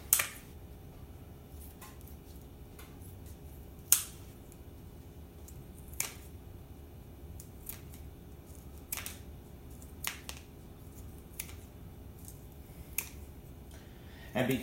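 Kitchen scissors snip beef jerky into bite-sized bits, a series of sharp, isolated clicks spaced a second or two apart over a quiet room hum.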